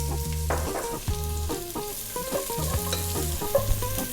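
Ginger, garlic and onion sizzle in a hot pan while a spoon stirs them, with a steady loud hiss and repeated scraping strokes close by.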